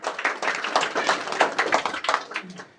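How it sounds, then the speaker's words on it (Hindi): Enthusiastic clapping from an audience at the opening ceremony of a library and reading room, a steady patter of many hands that stays fairly close and even throughout. "इनके लिए शानदार तालियां बजाएं।"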